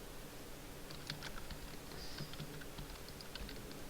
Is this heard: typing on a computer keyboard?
yes